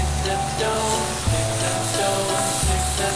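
Steak sizzles in a frying pan, a steady hissing crackle that fills the clip, with a low hum rising and falling underneath.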